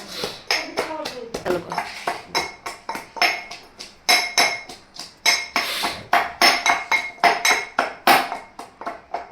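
Garlic is pounded to crush it, giving a steady run of sharp, close knocks with a hard clinking edge, about two or three per second. A brief voice is heard near the start.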